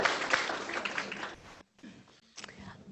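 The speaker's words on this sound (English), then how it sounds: "Give yourself a round of applause." A room of people at an induction session gives themselves a round of applause, a brief, moderate patter of clapping that trails off and breaks into a pause, with a few scattered sounds after.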